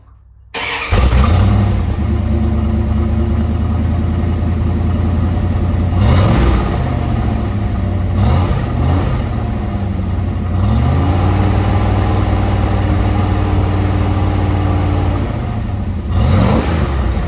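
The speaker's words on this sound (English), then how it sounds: "fire it up and see what this sounds like" A car engine starts and rumbles loudly through a fabricated exhaust muffler, settling into a deep idle with several sharp revs rising and falling across the run.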